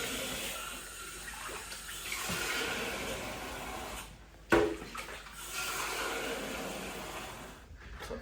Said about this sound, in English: when we want to refill the water tank